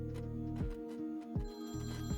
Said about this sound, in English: I actually heard the phone ringing. I love that sound effect.